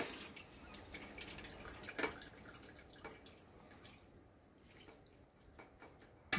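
Juice from pork rillettes cooked in red wine dripping through a colander, faint scattered drips and trickles with a couple of sharper splashes, quiet and close.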